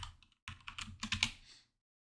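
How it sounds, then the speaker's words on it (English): A short run of computer keyboard typing, a few light taps and then a busier burst of keystrokes that stops abruptly into silence, close and quiet, no speech. "I can't type on this keyboard"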